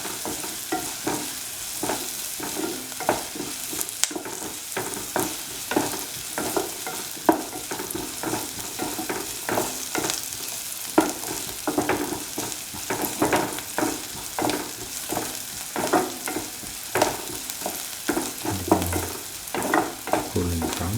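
Onions fry in a pan, giving a soft, continuous sizzle broken by frequent rhythmic scrapes and clacks of a spatula stirring them.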